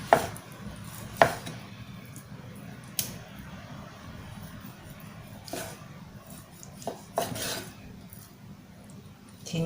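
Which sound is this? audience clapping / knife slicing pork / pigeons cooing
knife slicing pork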